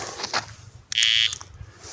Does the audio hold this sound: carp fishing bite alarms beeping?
yes